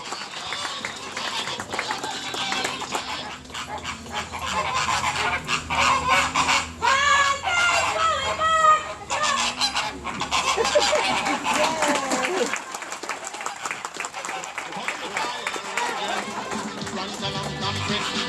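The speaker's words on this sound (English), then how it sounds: "Bird of the Bahamas, the Caribbean Flamingos, as they enter the arena." Caribbean flamingos honk and call in a loud goose-like chorus as they enter the arena at a zoo flamingo show in Nassau, Bahamas, with a crowd murmuring and clapping and an announcer talking.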